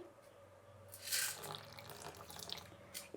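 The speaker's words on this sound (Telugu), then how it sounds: "కొద్దిగా నీళ్ళు వేద్దామండి" Water poured from a vessel into millet dosa batter seasoned with salt and a little sugar; a short splashing pour swells up near the start and trails off into faint trickles and drips, close and quiet.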